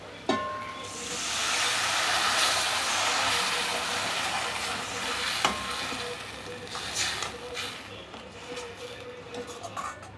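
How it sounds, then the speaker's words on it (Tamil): Onion and tamarind extract sizzle and hiss in a hot pan for tamil thokku, a steady frying crackle with occasional stirring clinks, while someone talks over the cooking. "அதையும் சேர்த்து வதக்கிட்டு புளிக்கரைசலை சேர்த்துக்கிடுவோம்."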